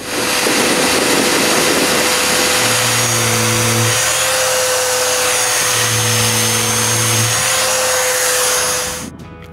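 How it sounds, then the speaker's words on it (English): Power sander working on wooden moldings at a shop exterior, a loud steady whine running almost the whole time, with two long stretches of lower droning load as the tool bears on the wood, cutting off abruptly at the end. "The last thing to do is to sand the moldings that are a little bit too long."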